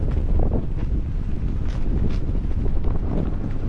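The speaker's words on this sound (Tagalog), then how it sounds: "Ang lakas ng hangin." Strong wind while parasailing in Boracay buffets the microphone in a constant low roar, gusting loudly throughout with faint rustling and no speech.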